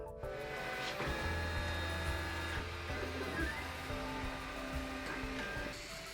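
A 3D printer prints a PLA wall hook, giving soft stepper-motor whines and faint mechanical shuffling at low level with no speech.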